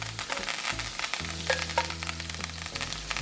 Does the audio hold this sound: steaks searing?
yes